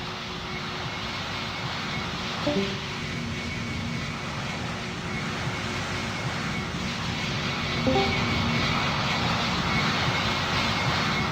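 An airliner in the Roblox game Pilot Training Flight Simulator roars through its takeoff roll, a continuous broad engine rumble that swells slightly, with a couple of faint short beeps over it.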